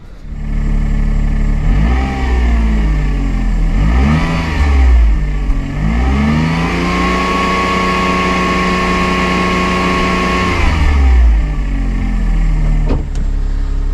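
A Daihatsu Tanto L350S, after head gasket repair, cranks and starts, then its small engine revs up and down in several loud surges before settling to a steady idle and cutting off, close by with no talking.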